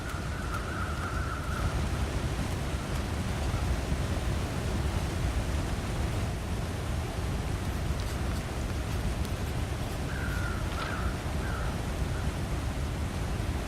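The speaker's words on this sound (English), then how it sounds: "Waterfall." A waterfall rushes in the video game The Long Dark, a constant broad roaring hiss of falling water that holds steady throughout, with faint intermittent tones drifting over it and no voices.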